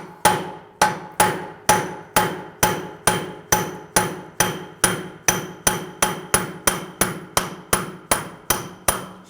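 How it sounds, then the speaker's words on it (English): A hammer strikes a punch over and over to free the axle from the hub of a 2007-2013 BMW 328i, about two dozen sharp metallic blows in an even rhythm, close and loud with short ringing decays. "Just take a punch, just give it a tap."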